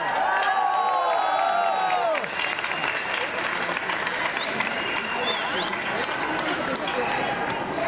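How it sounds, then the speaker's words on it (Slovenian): Crowd applause at an outdoor pro-life march event in Ljubljana, steady open-air clapping with some cheering that swells after a few seconds as people talk and a voice carries over the start. "Aplavz!"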